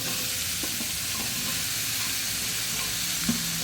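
Okra and hog plums sizzle steadily in a hot pan for a Mangalorean ladies finger saaru, with a few soft stirring scrapes and one sharp clink near the end, no voices.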